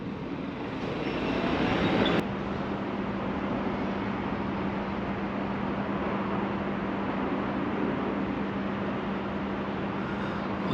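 A stationary train sits at a fuel depot with its brakes on, giving a steady low rumble and hum, with a brief louder mechanical burst early before settling into a constant drone.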